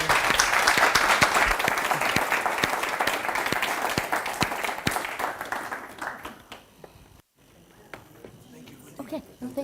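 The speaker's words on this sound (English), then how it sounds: "let's give her a round of applause." Audience round of applause at a fireside chat on green finance and central banks, a dense, loud burst of clapping that thins out and fades over several seconds, then a brief pause and faint voices.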